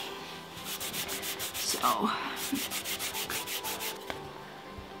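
Gold foil on leather is rubbed back and forth in a rapid, rhythmic scrubbing that is steady and close, with a short word spoken briefly partway through.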